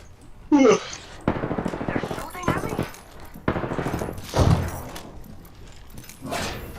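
Video game gunfire, bursts of automatic fire and thuds under a player's voice chat, loud and continuous through the clip with a heavy impact midway.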